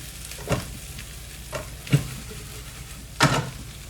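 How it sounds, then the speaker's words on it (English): Soft sizzling of potatoes for corned beef hash crisping in a pan, with a few scraping stirs at irregular intervals, close and steady, no talking. "You hear the crispies on the bottom."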